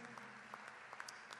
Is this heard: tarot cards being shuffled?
no